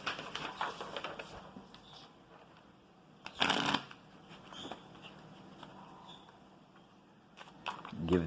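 A deck of playing cards is riffled and shuffled during a tabletop wargame session, soft papery rasps in short bursts with one louder ruffle midway, while a voice talks quietly over it.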